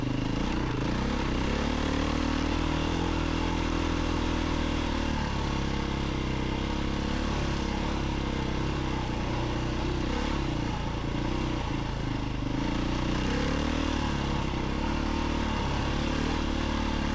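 A 2024 Beta 500rs dirt bike ridden on loose, shelly desert dirt in Golden Valley, Arizona, its single-cylinder engine droning loud and steady throughout, rising and falling slightly with throttle.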